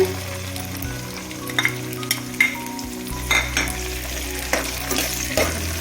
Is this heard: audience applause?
no